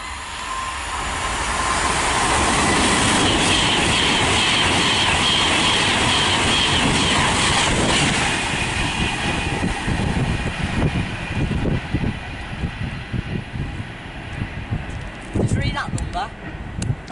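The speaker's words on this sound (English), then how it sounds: "next train to pass through is a Virgin train service from London Euston to Blackpool North. Formed of a Pendolino" A Virgin Pendolino, an 11-coach original-livery unit on a London Euston to Blackpool North service, passes through Nuneaton station on the West Coast Main Line. It builds into a loud, broad rushing roar that holds for several seconds, then fades.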